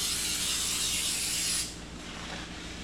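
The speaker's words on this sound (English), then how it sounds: "I'm gonna go ahead and just spray this off clean before we put it back on there now." Aerosol cleaner sprayed onto a brake rotor from a 2013 Kia Sorento during a front wheel bearing job, a close, loud steady hiss that cuts off abruptly after about a second and a half, leaving quieter workshop background.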